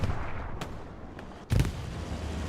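A frag grenade blast in the Hell Let Loose Omaha Beach battle, one sharp heavy burst midway through, set against a steady bed of distant gunfire and battlefield noise.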